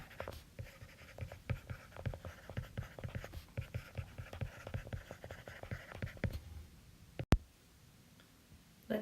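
A marker squeaks and taps against a board in quick, irregular strokes while a kinetic diagram is drawn, up close, then the drawing stops, followed by a sharp knock and quiet.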